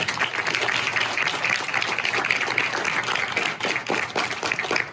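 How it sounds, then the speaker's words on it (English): An audience applauds at an elementary school sixth-grade graduation ceremony, with dense, steady clapping that holds at an even level for about five seconds and carries no clear speech. "Big round of applause"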